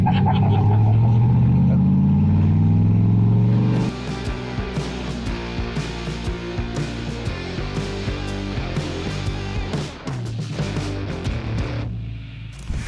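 A 1988 Ford with a swapped 5.0 engine drives along, a loud steady engine drone that drops to a busier rumbling road noise partway through, with some voices underneath.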